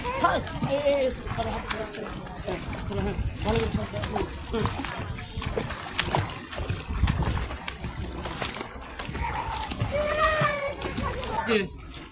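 Water splashes and sloshes in a pond as someone swims, irregular churning close by, with voices talking over much of it and rising in excited calls.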